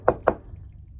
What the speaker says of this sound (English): got a knock at his door.